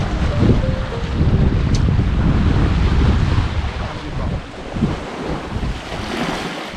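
A sailboat runs under its code D sail as gusty wind buffets the microphone and waves rush and splash against the hull in a loud, continuous wash.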